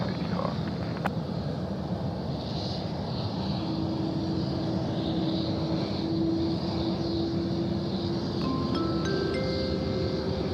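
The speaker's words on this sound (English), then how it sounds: "Qantas 655, runway 16 right, clear for takeoff." Qantas 655 airliner taking off from runway 16 right at Sydney Airport at night: a steady, distant jet engine roar with a droning hum, rising tones appearing near the end, no talk.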